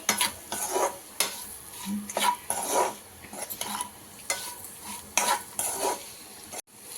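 Bitter gourd (kakarakaya) fry being mixed in a pan: repeated scraping, clattering stirs at an irregular rhythm over a soft, steady sizzle, close and fairly loud, with no voices.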